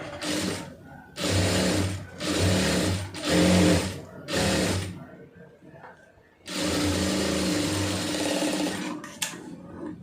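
A sewing machine stitches sleeve lining for pleated puff sleeves in bursts: four short runs of rapid mechanical whirring, a pause with faint handling sounds, then one longer continuous run, close and loud.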